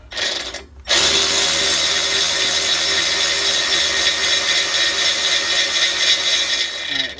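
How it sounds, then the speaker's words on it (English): Power tool backing a bolt out of a tire machine: a brief burst, a short pause, then a loud, steady high-pitched whir held for about six seconds before cutting off. "you can see I've got this last bolt coming out"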